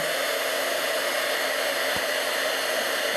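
A heat tool blows hot air steadily over embossing powder, a loud, even hiss that holds for the whole stretch without pause.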